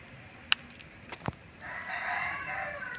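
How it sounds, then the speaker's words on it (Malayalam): A rooster crowing some distance away, one drawn-out call in the second half after a few sharp knocks, faint against quiet outdoor background with no talking. "കോഴി കറിയുന്നുണ്ട്"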